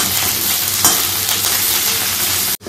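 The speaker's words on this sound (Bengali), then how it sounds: "পটলগুলো ভাজতে হয়, তো রান্নাটা শুরু করি। একদম হালকা হালকা করে ভাজবো।" Pointed gourd fries lightly in oil, a loud, even sizzle with faint stirring that runs steadily, then breaks off abruptly near the end, with no talking.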